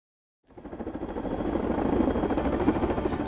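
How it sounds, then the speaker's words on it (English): Military helicopters flying at Camp Pendleton, rotor chop fading in from silence and building to a loud, steady pulsing thump. "A team of Hilo choppers greet us at Camp Pendleton with a man-made dust storm"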